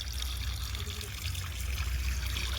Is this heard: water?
yes